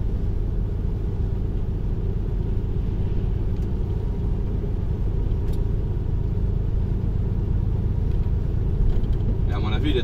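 Car rolling at low speed along a freshly finished French road, a steady engine and tyre rumble throughout, close and continuous, with a brief rise near the end.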